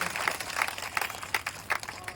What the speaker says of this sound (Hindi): जोरदार ताली बजा करके इनका स्वागत करें।